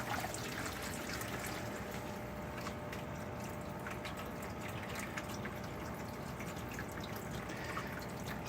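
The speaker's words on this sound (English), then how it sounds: "So it basically fills up until water starts draining out the exit or the outlet" Water floods and drains through a microgreen flood-and-drain tray, a steady low trickling and dribbling wash with faint drips, continuous and fairly quiet, with no talk.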